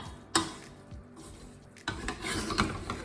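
Peas and cubed potatoes are mixed together in a pot, with soft scraping and stirring and a few sharper knocks of a utensil against the pot, close and fairly quiet.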